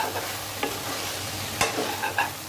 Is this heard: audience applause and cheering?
no